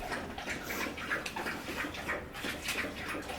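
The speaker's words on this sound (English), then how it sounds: "The sound of a dog chugging water." A dog lapping water nearby, rapid wet slurping in quick repeated bursts, fairly quiet with no voices.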